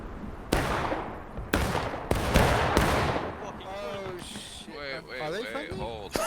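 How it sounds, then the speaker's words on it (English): Video game gunfire cracks in several sharp, loud bursts at uneven intervals over a battlefield din, with players talking over it. "They're shooting their own guys."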